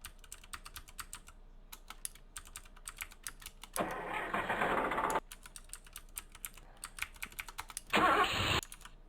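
In the 1996 PC game Invention Studio, rapid keyboard clicks surround two bursts of a vehicle engine starting, one about a second long and a shorter one near the end, both loud and close.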